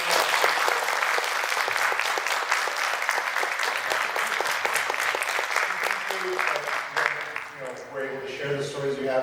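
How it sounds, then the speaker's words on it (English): A Comic-Con panel audience in San Diego applauds steadily and loudly throughout, dense clapping filling the room, easing slightly near the end as a few voices and cheers rise through it. "let's give a warm, applause."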